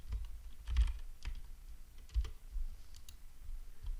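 Soft, close typing on a computer keyboard while working in Houdini, with a few uneven clusters of key taps and clicks over a quiet background, and no talking.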